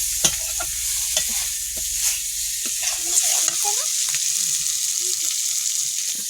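Mixed garden vegetables cook in a pan with panch phoron and lentil badi, giving a loud, continuous sizzle with stirring scrapes. Faint voices talk in the background partway through.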